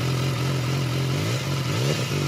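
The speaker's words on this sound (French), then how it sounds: "Une fois le 4 cylindres en route, l'échappement délivre un bruit sportif très sympa" A BMW S 1000 XR four-cylinder sport motorcycle runs with a loud, steady exhaust that has a sporty growl and a slight rise and dip in pitch. It is close and there is no talk.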